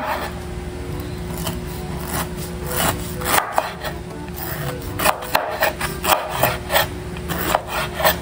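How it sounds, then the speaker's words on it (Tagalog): A knife rasps against the rough skin of jackfruit as it is peeled, making steady close-up scraping and rubbing strokes with a few sharper scratches, and no talk. "Satisfying naman po ang pagbabalat ng langka"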